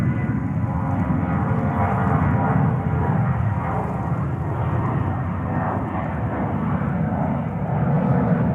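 JetBlue Airbus A320 airliner passing at JFK airport, a loud steady engine roar that holds constant from start to finish with no voices.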